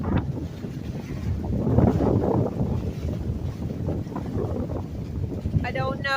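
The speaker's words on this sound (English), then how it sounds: "Seems like the wind is really picking up right now." Strong hurricane wind from Hurricane Helene roars steadily and loud against the microphone, with gusting buffets throughout and a brief tonal whistle or creak near the end.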